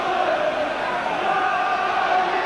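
A packed football crowd roars at Upton Park for a 1985/86 West Ham versus Manchester United match, a steady, distant wash of massed voices with no single shout standing out.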